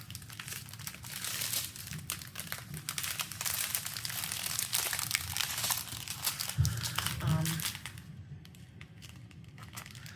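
Plastic bags being handled, a dense continuous crinkling and rustling close up for several seconds before it trails off near the end, with a voice speaking softly underneath.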